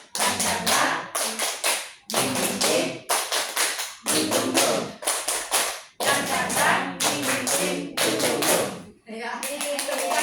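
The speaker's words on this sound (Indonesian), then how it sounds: "Tepuk semangat." A group of teachers-in-training chants and claps a spirit clapping routine together, loud close bursts of rhythmic hand claps in repeated phrases separated by brief pauses.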